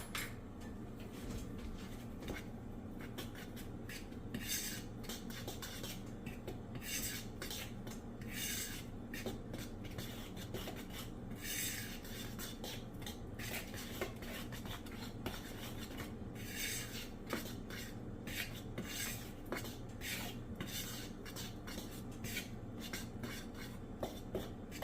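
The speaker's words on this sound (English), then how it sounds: "we're just gonna mix that up" Ingredients are stirred together in a bowl with a spoon, making a steady, close scraping and rubbing sound that runs on and on in uneven strokes, with no voices. The mixture is being prepared for a batter for fried oyster mushrooms.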